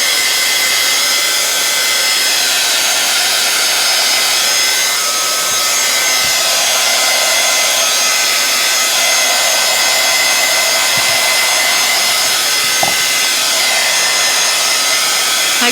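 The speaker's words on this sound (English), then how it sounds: "we're going to hit this with heat gun" A heat gun blowing on a mixed media animal portrait gives a loud, continuous airy roar that holds steady throughout, with a few faint knocks under it.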